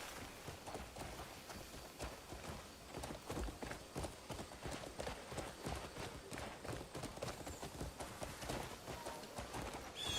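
Horse hooves clip-clopping in the open-world video game Crimson Desert, a steady run of hoofbeats at a moderate trotting rhythm, fairly faint and continuous for several seconds alongside game ambience.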